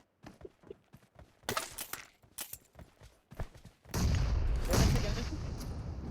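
In a PUBG Mobile tournament match, scattered sharp gunshots crackle before a grenade explosion bursts into a loud, sustained blast that rumbles on to the end.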